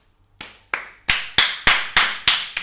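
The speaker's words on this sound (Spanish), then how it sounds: "Un aplauso." Sharp hand claps, about seven of them in a steady rhythm, growing louder after the first couple, close and with no voices.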